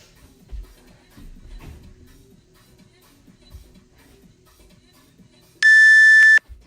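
Workout interval timer during a bodyweight circuit gives one sustained bright electronic beep near the end, loud and close, after quiet shuffling and small movement noises.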